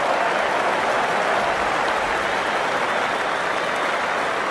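At an England versus Australia one-day international cricket match, the crowd applauds a well-struck shot, giving dense, sustained clapping that fills the whole stretch at an even level, with no commentary heard over it.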